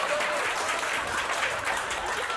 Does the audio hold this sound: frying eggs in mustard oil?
no